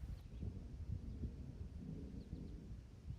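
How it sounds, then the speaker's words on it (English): Distant thunder during a live endurance race weekend at Virginia International Raceway, a low, faint rolling rumble that swells and fades across the whole stretch with no talk over it. "Where there's thunder, there's lightning."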